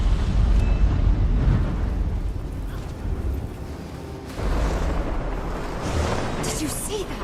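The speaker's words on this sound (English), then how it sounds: "That bloodstone explosion seemed to trigger some sort of magical echo." A bloodstone explosion and tremor in Guild Wars 2 rumble as a loud, deep, sustained roar with a heavy low-end surge midway, game effects dominating with no clear talk over them.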